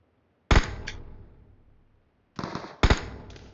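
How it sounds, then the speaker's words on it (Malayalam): Gunfire in a battle royale video game: sharp, loud bursts of shots in quick pairs separated by short silences, each trailing off briefly. "ഞാൻ കറക്റ്റ് അവനെ സൂം ചെയ്ത് വെച്ച് വെടി വെച്ചോണ്ടിരിക്കുക"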